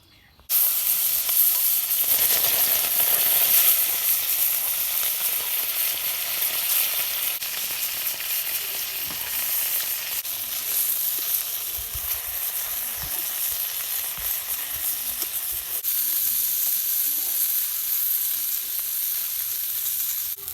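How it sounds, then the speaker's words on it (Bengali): Fish seasoned with turmeric and salt fries in hot oil in a pan, giving a loud, steady crackling sizzle that runs without a break for about twenty seconds. "হলুদ আর লবণ দিয়ে আমি শুধু মাছ ভাজুম"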